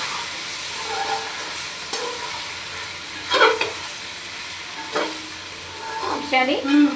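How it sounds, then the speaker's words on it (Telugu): A spoon stirs curry in a pan once the oil has separated, giving a soft steady sizzle with a few scraping strokes, loudest near the middle and end. "ఇలా ఆయిల్ సపరేట్ అయ్యాక ఒకసారి ఇలా కలుపుకొని"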